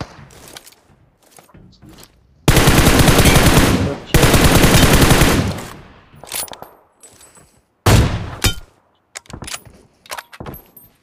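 Gunfire in a mobile shooting game played on a Redmi K50i, two long bursts of rapid automatic fire followed by scattered shorter shots and clicks, loud and close.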